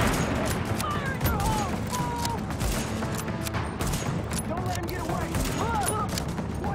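Gunfire from a video game with headshots, a dense, continuous clatter of rapid shots and booms over a heavy rumbling backdrop, with a voice talking over the action.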